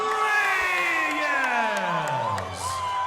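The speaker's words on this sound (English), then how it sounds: "A lot of crowd support for both fighters." Crowd at an amateur boxing fight gives a loud, sustained cheer with whoops and shouts, the roar holding steady before easing off slightly near the end.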